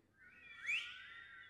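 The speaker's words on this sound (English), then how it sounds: "You can whistle really loud." A church congregation whistles loudly together without using fingers, a shrill, sustained group whistle that swells to a peak and then holds steady for about a second and a half.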